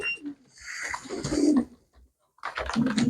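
Pigeons for sale at a pigeon market give soft, close cooing calls in two short bursts separated by a brief pause, with faint background clatter.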